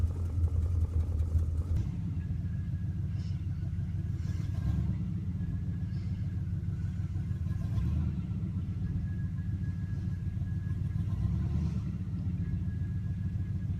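A 1971 Oldsmobile's engine running while the car drives, a steady low rumble that deepens after a moment and holds at moderate volume, with faint road and cabin noise.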